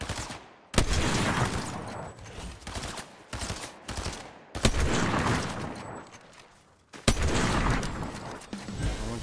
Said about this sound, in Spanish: Yo no fallo los tiros con el sniper normal.